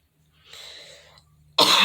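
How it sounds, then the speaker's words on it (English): A person coughs and clears their throat, a rough, breathy rasp followed by a sharp, loud cough burst at the end, close to the microphone with no speech. "every time I work on certain cases, I get the coughing and my throat is bothering me"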